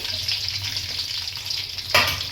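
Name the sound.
frying tomato, green chili and garlic in a pan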